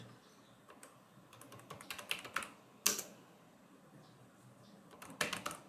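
Computer keyboard typing in irregular bursts of soft clicks, with a sharper flurry near the middle and another toward the end, fairly close and quiet with no talking.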